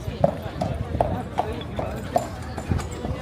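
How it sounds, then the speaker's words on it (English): Horses clip-clop past on a street near Palma cathedral in Mallorca, several clear hoof strikes in a steady walking rhythm while people chat nearby. "Horses going by."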